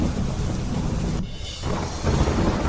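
Heavy monsoon rain pours in Ahmedabad by the Sabarmati riverfront, a loud continuous roar with deep thunder rumbling through it and a short dip midway.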